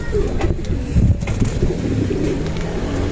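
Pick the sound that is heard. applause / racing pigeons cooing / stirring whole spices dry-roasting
racing pigeons cooing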